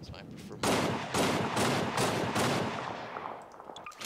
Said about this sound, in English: I think this is the assault shotgun.